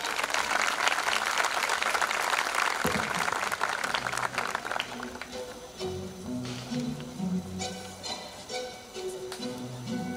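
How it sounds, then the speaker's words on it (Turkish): Sustained applause from the audience at a high school graduation ceremony, dense and loud at first, then thinning as music and voices come through underneath. "Hepinizi ve Mert'i yürekten alkışlıyoruz."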